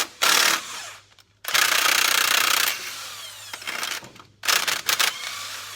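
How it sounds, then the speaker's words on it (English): Impact wrench driving in loud bursts with short pauses between them, rattling and hammering at close range, with no talk over it. "I use an impact, so I get it going, and then when it bottoms out"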